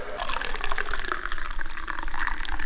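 Hot water pours steadily in a continuous splashing gush, close and fairly loud, with no voices.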